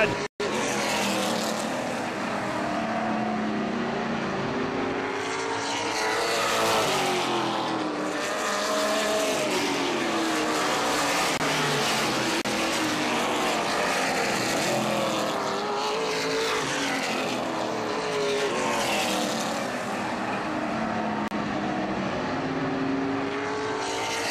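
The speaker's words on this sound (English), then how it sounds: "Into the corner, Tommy Cook, Chad Richardson leaning on each other, coming up off" Late model stock cars race at Baer Field Speedway, a steady loud roar of several engines with rising and falling pitch as cars pass through the corners, running the whole time under a race announcer's commentary.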